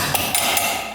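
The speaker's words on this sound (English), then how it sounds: "Now we gotta hammer that off somehow." A hammer strikes metal while a part is knocked off a Polaris Ranger, three quick sharp blows in rapid succession over a loud, noisy background, close by.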